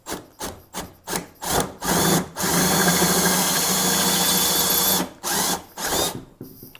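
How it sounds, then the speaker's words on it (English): A power drill whines in short bursts drilling out a steel pin in a 2005-2010 Ford Crown Victoria door, then runs in one long sustained grind before a few more brief pulses, close and loud. "Now all you have to do is drill it out."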